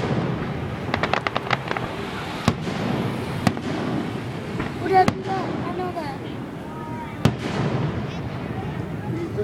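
Distant Fourth of July fireworks crackle and pop in a rapid burst, then sharp individual bangs ring out intermittently over a murmuring crowd and voices.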